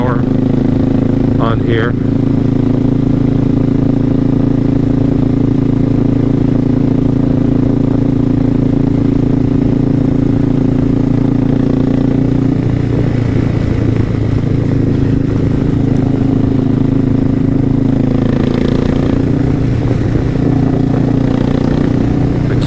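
Suzuki S40 single-cylinder thumper motorcycle on the road, its steady loud low engine drone running throughout with slight shifts in pitch, while someone talks over it.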